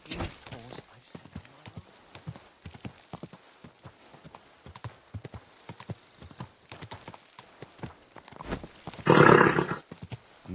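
Horse hooves clip-clop steadily at a slow walk in Kingdom Come: Deliverance II, a dense run of sharp knocks close by, ending in a louder burst of noise near the end.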